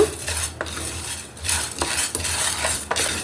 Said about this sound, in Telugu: ధనియాలు, ఇప్పుడు మాడకుండా బాగా వేయించుకోవాలి కలర్ వచ్చేలాగా